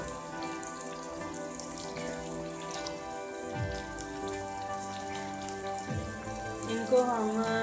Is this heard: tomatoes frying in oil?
yes